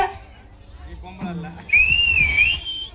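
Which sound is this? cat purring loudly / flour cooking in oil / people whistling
people whistling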